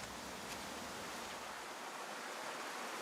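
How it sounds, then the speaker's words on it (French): Stream water diverted into huge wooden tubs at a village laundry in the Romanian Carpathians, a steady, even rush of flowing water filling the space without pause, fairly quiet and continuous throughout. "l'eau du ruisseau s'écoule dans d'énormes bacs en bois"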